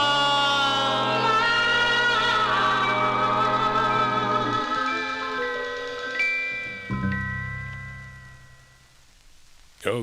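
A 1950s doo-wop 45 single plays on vinyl with sustained vocal harmonies and instrumental backing at steady volume, thinning toward a brief ending.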